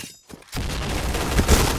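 Gunfire in the Point Blank video game, where a brief quiet gives way to a dense, continuous burst of rapid shots with sharp cracks, loud and close, running to the end.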